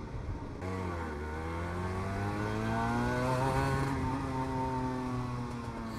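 Cagiva Mito two-stroke sport bike engine revving, a buzzy high-pitched exhaust note that climbs steadily in pitch and holds strong, loud and close throughout.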